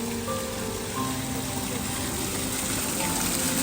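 A water fountain sprays at Sunset Point, Chiplun, making a constant dense hiss and gush of falling water, loud and even throughout, with a few faint tones in the background.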